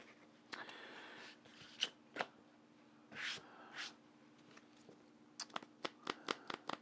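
Deck of cards shuffled during a Marvel Champions card game, soft riffles and brisk flicking bursts followed by a quick run of sharp taps near the end, close and quiet with no talk.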